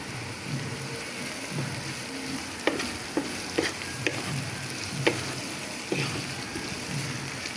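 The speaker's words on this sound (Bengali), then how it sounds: "পেঁয়াজটা আমি সুন্দর করে বাজা নিলাম" Onion fries with salt in a pan, giving a steady, close hiss of sizzling oil, punctuated by several sharp clicks and scrapes of a utensil stirring against the pan, with no speech.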